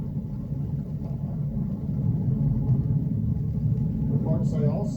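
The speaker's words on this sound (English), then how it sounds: "Vehicle is supersonic. We've exceeded Mach 1 on the Falcon 9." Falcon 9 rocket ascending supersonic through max dynamic pressure, a steady broad low rumble that swells slightly and holds loud throughout, with a faint voice entering near the end.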